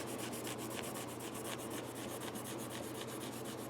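A cloth scrubbing the frets along a Stratocaster guitar neck, a quiet, steady series of rapid back-and-forth rubbing strokes in an even rhythm, close up with no voices.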